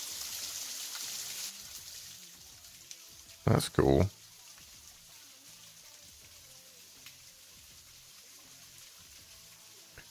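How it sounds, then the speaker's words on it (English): A small waterfall on a coastal walk gives a steady, fairly faint rushing hiss of falling water. It is loudest at the start, then sits low under a short spoken remark. "found a small waterfall at a local coast walk this week"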